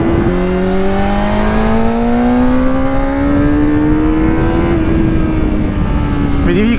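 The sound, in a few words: Honda CBR600RR motorcycle engine revving through the gears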